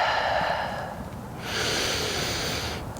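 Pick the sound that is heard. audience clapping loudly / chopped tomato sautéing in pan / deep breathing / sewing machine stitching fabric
deep breathing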